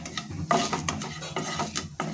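A spoon stirs turmeric and asafoetida in a hot oil tempering for bitter gourd pickle, with steady close scraping and a soft sizzle in the pan throughout.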